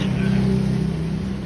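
A motorbike being wheeled out and started, its engine running in a steady low idle hum close by, with no clear revving peaks.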